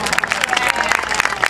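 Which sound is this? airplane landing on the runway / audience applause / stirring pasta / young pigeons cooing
audience applause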